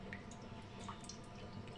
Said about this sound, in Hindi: कढ़ाई के अंदर ना मैं आधा गिलास जो है पानी डालूँगी